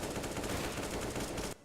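Rapid automatic gunfire from a rifle in Counter-Strike: Global Offensive on the Mirage map, a dense sustained burst of loud shots that stops abruptly near the end.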